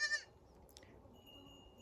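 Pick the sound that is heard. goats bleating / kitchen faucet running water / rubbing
goats bleating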